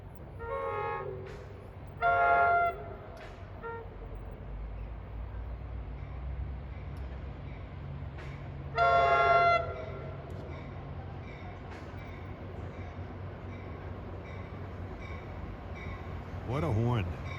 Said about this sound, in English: What a horn.